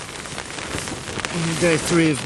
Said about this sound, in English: Rained all day, just waiting for the rain to stop so I can move on.